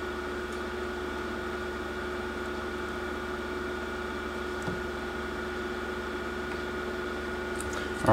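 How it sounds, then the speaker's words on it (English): A solder fume extractor fan runs at a steady, even level throughout, a constant whirring hum with broadband airflow noise, close by and alone, during a repair of a Conic TG-621 sports home console. "first let's turn on the solder fume extractor"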